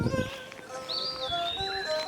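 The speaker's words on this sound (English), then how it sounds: "Many kinds of birds chirping" Several kinds of birds chirp and whistle on a bush hill in Australia, with clear, fairly close tweets and sweeping calls layered over a quiet outdoor background.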